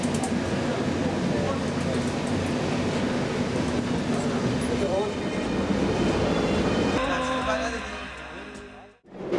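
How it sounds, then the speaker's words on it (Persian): Steady rumble and rattle of a moving Bandar Abbas–Tehran passenger train heard from inside a carriage, with muffled voices underneath, the noise dipping and thinning near the end. "همکنون در قطار بندر عباس تهران هستیم"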